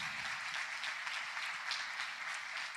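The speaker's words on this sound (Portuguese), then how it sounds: "Vamos aplaudir o Senhor." A church congregation applauds steadily during a Sunday evening worship service, a dense, even wash of clapping with no break.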